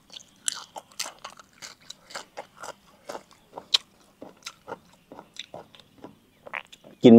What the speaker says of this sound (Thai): กินมันขึ้นดังพี่น้อง